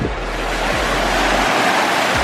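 Pacific Ocean surf at Diamond Head washes in loud and close, a steady roar of breaking waves with gusts of wind buffeting the microphone and no talk.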